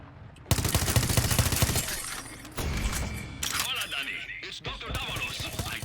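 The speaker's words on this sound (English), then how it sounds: "Is that gunfire? Yes! Yes, it is!" Bursts of gunfire and shattering impacts in the video game Far Cry 6, loud and close, with in-game voices speaking over the latter part.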